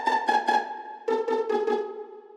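Pizzicato string sample from a beat-making software instrument, two short phrases of plucked notes: three quick plucks, a brief pause, then four more, ringing clearly and fading at the end.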